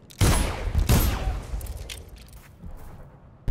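Gunfire from the video game Dishonored: two loud, close booming shots with long rumbling decay, followed by quieter scattered crackles and another abrupt blast at the end.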